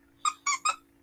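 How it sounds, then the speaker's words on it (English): Squeaky toy hidden inside a giant stuffed bunny squeaked three times in quick succession, each squeak bright and nasal, with a fourth starting at the end, close and clear over a faint steady hum. "I remember it squeaks somewhere."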